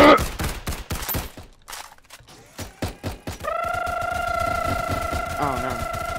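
Minigunner towers firing in the Roblox game Tower Defense Simulator: rapid rattling bursts of gunfire, dense at first, then thinning before a sustained tonal whine takes over, with excited voices over it.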